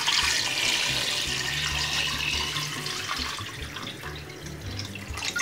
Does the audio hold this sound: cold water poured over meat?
yes